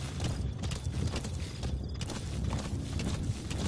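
Horse hooves clip-clop steadily on the ground in Metal Gear Solid 5: The Phantom Pain, a moderately quiet, even walking rhythm with no speech over it.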